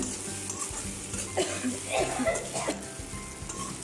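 Food stirred in a sizzling pan with salt just added, a steady frying hiss with soft scraping and light clinks of the spoon against the metal, fairly close.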